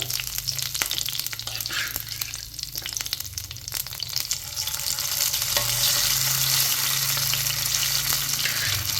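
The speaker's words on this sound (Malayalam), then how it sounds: "കുറച്ച് കറിവേപ്പിലും കൂടെ അതിനകത്തേക്കാണ് ഞാൻ ചിക്കൻ പീസ് ഇട്ട് കൊടുക്കാൻ പോകുന്നത്" Chicken pieces and curry leaves fry in hot oil with a steady, dense sizzle that swells louder in the second half, broken by occasional stirring scrapes and no voices.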